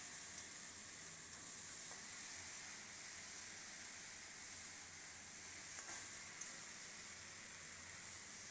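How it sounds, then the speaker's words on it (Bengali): Food frying in an uncovered pan over high flame, a faint, steady hiss and sizzle with a few soft stirring scrapes. "হাই ফ্লেমে দিয়ে ঢাকনাটা খুলে একটু নাড়াচাড়া করছি"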